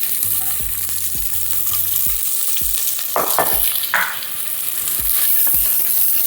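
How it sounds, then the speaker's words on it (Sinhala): Onions fry in vegetable oil in a pan, a loud, close, continuous sizzle with occasional stirring scrapes and clacks and no talking. "ලුණු ටික පොඩි වෙලාවක් තෙලින් බැදෙන්න ඕනේ."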